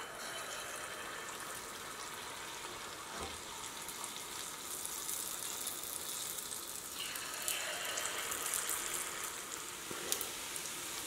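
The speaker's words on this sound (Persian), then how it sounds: "من سعی میکنم بقیه این خمیر رو هم سرخ کنم" Dough balls for Iranian southern-style legimat frying in hot oil, a steady soft sizzle and bubbling hiss throughout with a few faint clinks, heard alone without talk.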